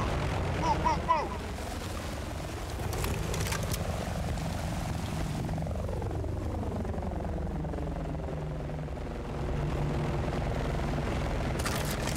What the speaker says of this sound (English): that chopper's gotta be for him.